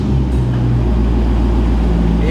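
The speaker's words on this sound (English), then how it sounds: "The exhaust, just nothing like that growl." A Chevrolet Corvette's exhaust gives a low, constant growl at idle, loud and close, running steadily under a voice.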